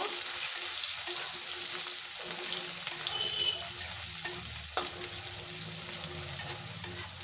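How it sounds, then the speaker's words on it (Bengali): Chopped onion and crushed garlic frying in hot oil: a dense, steady sizzle close up, broken by a few stirring knocks and scrapes, with no one talking. "তেল গরম হয়ে গেছে দিয়ে দিচ্ছি পেঁয়াজ কুচি রসুন থেতো করে নিয়েছি একটু ভালো করে নেড়ে নেব"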